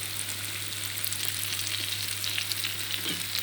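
Pieces of taro fry steadily in hot oil until golden, a dense, even crackling sizzle that holds close and loud throughout with no talking.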